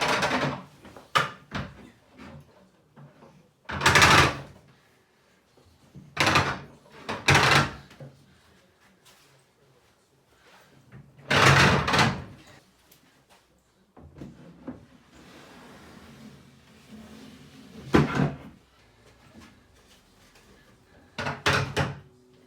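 New wooden kitchen cabinet doors open and close repeatedly with knocks and thumps, separated by quiet pauses.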